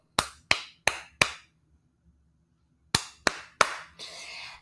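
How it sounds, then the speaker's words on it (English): Hands clap out a rhythm in two groups, four sharp near claps, a pause, then three more, followed by a brief rustle; no talking. "You could clap it."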